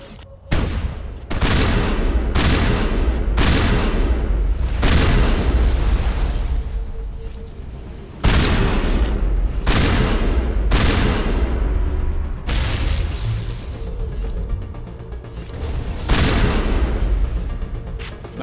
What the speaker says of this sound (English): time to pull out the shotgun